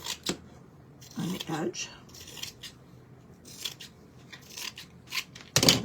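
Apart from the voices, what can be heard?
sharp scissors trimming excess foam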